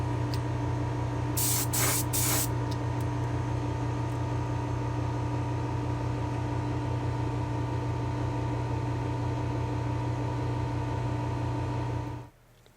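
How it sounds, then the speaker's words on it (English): Short hissing bursts of clear coat sprayed onto a 1:32 diecast Ford F100 body, heard early on over a loud, steady mechanical hum that runs throughout and cuts off near the end. "I'm looking forward to clear coating this thing."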